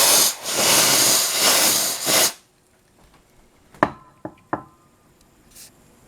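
An aerosol can sprays into the back compartment of a VCR in two loud, sustained hissing bursts, followed by quiet and then a few sharp knocks and clicks of handling.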